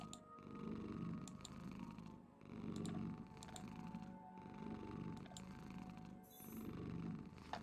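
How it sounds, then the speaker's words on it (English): A cat purrs in low rhythmic pulses, close and soft, each breath cycle rising and falling at an even pace, with no talking over it. "You got a cat purring."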